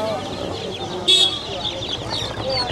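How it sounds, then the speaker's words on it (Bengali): Egyptian Fayoumi chickens at a busy rural livestock market give soft, scattered clucks mixed with a sharper brief squawk, set amid crowd chatter and background bustle. "মিশরীয় ফার্মি মুরগি।"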